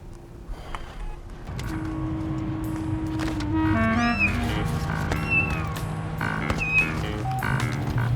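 A cat meows several times in a row, with drawn-out rising and falling cries, close by over a low background rumble.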